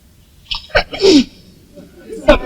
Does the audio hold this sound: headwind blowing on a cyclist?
no